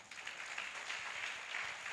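A church congregation at a Sunday service in Ramagundam applauds together, a steady, fairly soft wash of many hands clapping that holds evenly for a couple of seconds with no voices over it.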